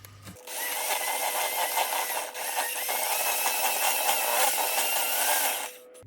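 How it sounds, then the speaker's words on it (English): Sugar and butter whisked in a bowl, a continuous close scraping and clattering that runs for several seconds and then stops, with no talking. "And we're going to give it a good whisk."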